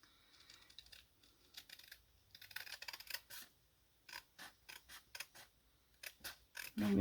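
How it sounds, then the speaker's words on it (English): Scissors snip along the edge of a paper card, a series of quick crisp cuts in short bursts, close and quiet, with no talk. "I think I need to just trim that tiny bit off the side"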